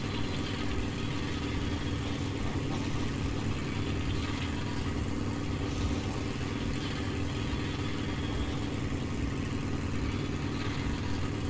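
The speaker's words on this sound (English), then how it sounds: "Just didn't start the engine." A vehicle engine idles in the video game Metro: Last Light, a steady low rumble with mechanical clatter that holds at an even level throughout, with no talking.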